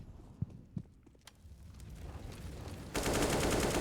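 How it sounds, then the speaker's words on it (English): Desert Eagle pistol shots at close range in a CS:GO professional match on Mirage, a few sharp game gunshot cracks amid in-game footsteps and ambience, then a louder dense burst of sound. "Dan King just with the Deagle at close range."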